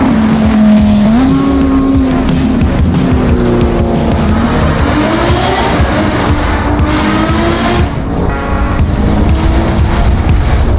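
A loud sports car engine roars and revs continuously, its pitch rising and shifting as it accelerates, with a dense rumbling texture throughout.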